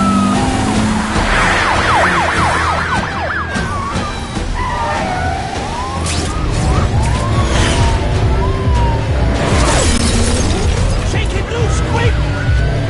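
A car chase plays out in The Amazing Spider-Man 2 video game. Wailing police sirens sweep up and down, and there is engine roar, skids and crash impacts in a busy mix, with a voice speaking over it.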